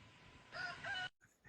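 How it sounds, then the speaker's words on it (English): A rooster crows once, fairly faint, in a short strained call that breaks off abruptly before a brief weaker tail. "Even the rooster got confused."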